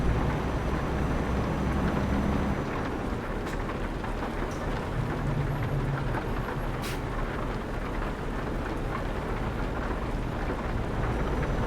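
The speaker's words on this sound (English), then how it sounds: "Yeah, it's a storm." A thunderstorm in Euro Truck Simulator 2 brings steady, dense rain hiss with low rolling rumble beneath it, continuous and fairly soft throughout.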